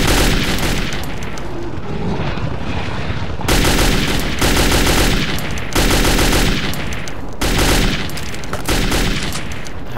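Loud, repeated bursts of gunfire from the video game Metro 2033, fired in rapid volleys separated by short gaps, with no talking.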